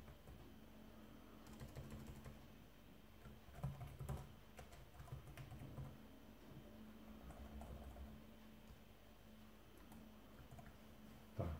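Faint, irregular clicks and taps of someone typing a user name on a computer keyboard while setting up a Linux installation, steady and quiet throughout.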